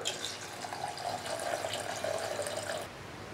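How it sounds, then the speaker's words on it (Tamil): Water pours into a pot of tomato rasam in a steady close stream for about three seconds, then cuts off, leaving a quieter kitchen background. "இப்போ இதில் ரசத்துக்கு தேவையான அளவுக்கு தண்ணி சேர்த்துக்கலாம்"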